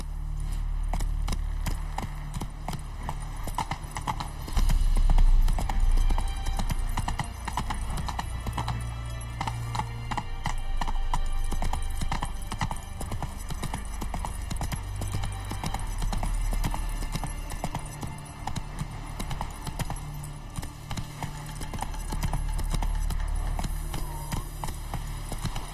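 Hooves of Roach, a horse in a video game, clip-clop in a steady, brisk rhythm throughout, with a sustained tonal game soundtrack underneath and occasional heavier thuds.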